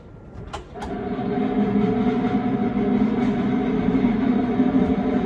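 A train rumbles steadily close by, a low droning roll that swells after a couple of sharp clicks at the start, with no voices.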